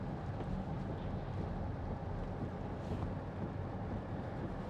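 Broad, steady whooshing of the heater fan blowing inside a 2014 Porsche Cayenne 4.2 TD S, a constant close roar with no voices.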